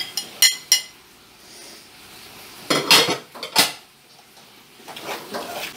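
Sliced sausage goes into a cooking pot for arroz carreteiro, with close metallic clinks of a utensil against the pot in scattered bursts separated by quiet gaps.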